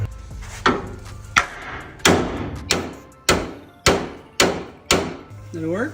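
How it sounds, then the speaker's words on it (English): Sharp metallic hammer blows strike a bracket while a 1968 Ford Bronco aluminum radiator is being fitted, about eight evenly spaced, ringing hits up close, with a brief voice near the end. "This bracket, I need a hammer."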